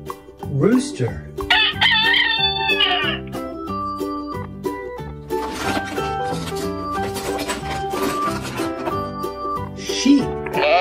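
A rooster toy on a farm gives a short electronic cock-a-doodle-doo near the start, set against steady, looping children's background music that plays throughout.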